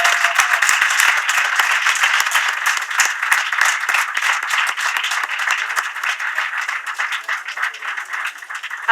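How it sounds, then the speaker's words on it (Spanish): Dense, sustained audience applause fills an awards ceremony closing a law school seminar on oral litigation, many hands clapping loudly and steadily for the full stretch with no voices standing out. "un aplauso también para ustedes."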